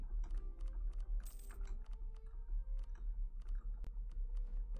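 Rapid, repeated mouse clicks come in quick, irregular bursts during a game of Europa Universalis IV, close and dry, with no voices.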